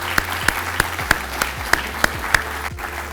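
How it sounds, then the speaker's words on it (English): Measured, evenly spaced claps echo through a large room at a community college kick-off event, honoring business partners; the sparse applause stays moderately loud and steady, then breaks off. "So a round of applause for all of our business partners."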